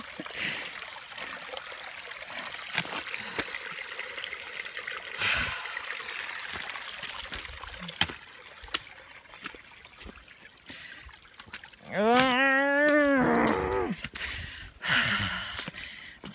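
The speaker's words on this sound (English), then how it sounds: "This is a creek. We're walking through a goddamn creek." Water of a creek sloshes and trickles steadily as hikers wade through it on the Appalachian Trail in the rain, with scattered splashes and a brief tonal squeak midway, fairly faint overall, with no speech.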